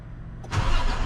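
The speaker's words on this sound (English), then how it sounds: "and I start the vehicle" A truck's engine cranks and catches at a Class A pre-trip inspection, the quiet cab giving way to a loud, steady idle rumble.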